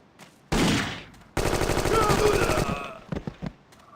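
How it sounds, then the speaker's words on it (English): Bursts of rapid machine gun fire ring out in the Indiana Jones and the Infernal Machine video game, two loud sustained volleys followed by a few scattered trailing shots. "I guess I could machine gun them."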